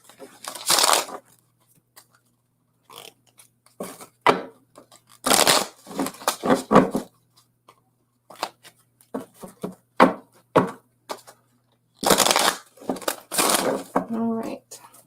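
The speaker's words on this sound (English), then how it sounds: "I'm going to shuffle these cards really good for you" Tarot cards are shuffled by hand in repeated crisp, riffling bursts, each lasting about a second and close to the microphone, between stretches of a person talking.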